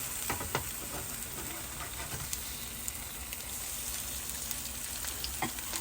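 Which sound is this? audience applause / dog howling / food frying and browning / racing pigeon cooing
food frying and browning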